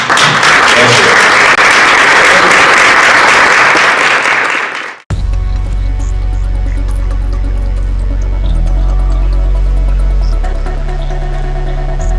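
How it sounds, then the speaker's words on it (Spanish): A university library tribute audience applauds with dense, steady clapping for about five seconds, fading out before an abrupt cut to a quiet, low humming background. "de nuevo un gran aplauso para ti"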